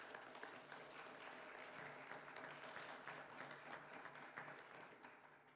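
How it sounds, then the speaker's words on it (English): Sustained crowd applause, dense steady clapping from many hands throughout, fairly loud with no voices over it. "Let's give him another round of applause, please."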